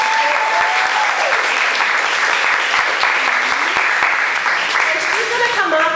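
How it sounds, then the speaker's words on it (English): An audience gives a loud, sustained round of applause at a women's discussion event, dense clapping filling the whole stretch while a voice talks over it. "She really deserves an amazing ovation and round of applause"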